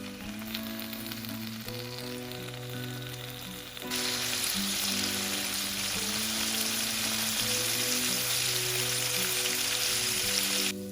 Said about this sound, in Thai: ใส่เบคอนลงไปในกระทะและทอดเบคอนให้สุกเหลืองทั้งสองด้านค่ะ